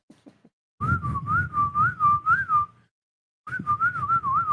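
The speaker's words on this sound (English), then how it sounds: "You're the king of whistling now." A person whistles a wavering melody in two bursts, the first about two seconds long and the second starting after a short pause, close and clear with faint sounds before it.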